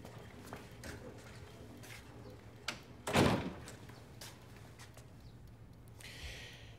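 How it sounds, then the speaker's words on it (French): Indoor door pushed shut in a school setting, one solid thud standing out midway through a quiet room with light shuffling and small knocks around it. "Ferme la porte."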